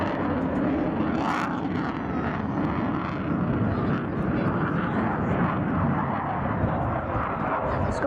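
Eurofighter Typhoon jet at an airshow in Southport, engines at maximum reheat: a loud continuous roar and rumble that fills the whole clip, with a public address commentator speaking over it.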